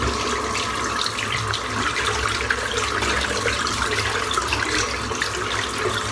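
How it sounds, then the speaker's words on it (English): Tap water runs loudly and steadily over a WCS silvertip shaving brush, rinsing out Wickham 1912 Club Cola shaving soap, a continuous close splashing rush with no talk. "So let's rinse the soap out."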